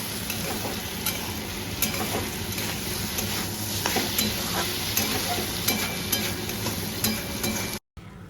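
Potatoes fry in a pan as a breakfast side for flatbread, making a continuous close sizzle broken by light scraping and clicking stirs; a brief silent gap comes just before the end.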